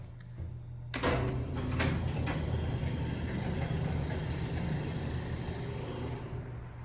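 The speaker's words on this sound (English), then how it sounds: "And then the door just reversed shut." An old historic Otis elevator door at 70 Woodfin Place in Asheville reversing shut: a sudden mechanical clunk and a few rattling knocks, then a sustained rumbling hum of the car and machinery, fairly close.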